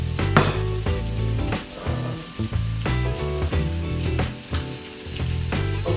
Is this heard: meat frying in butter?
yes